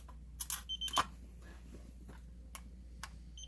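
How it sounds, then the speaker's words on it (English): A vent-free gas log remote receiver gives short, high electronic beeps, close and fairly faint, mixed with a few sharp clicks and handling taps in a quiet room. "There's a program button on the receiver, and once you hit it, it beeps 3 times."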